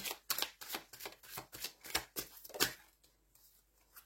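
Tarot cards are shuffled and laid down on a table, a quick run of crisp riffling flicks and slaps in a steady rhythm, close and fairly quiet, then trailing off into soft rustles.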